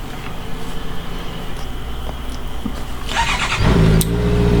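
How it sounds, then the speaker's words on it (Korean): A Honda CB650F motorcycle engine starts up close by, with a low steady rumble growing louder as it catches, then settling into a firm running note, without talking. "잠그기 전에 시동을 한번 걸어 보겠습니다 시동을 한번 걸어 주었습니다"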